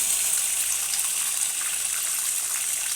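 A swan egg poured out as liquid, heard as a close, steady watery pouring and trickling that runs unbroken for a few seconds with no voices.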